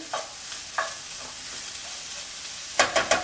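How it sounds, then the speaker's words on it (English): Onions sizzle softly in a pan while a utensil stirs and scrapes, with a few sharper clatters near the end. "We're just going to let the onions soften up a little bit."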